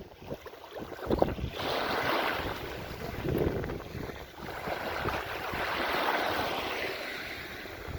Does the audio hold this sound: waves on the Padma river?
yes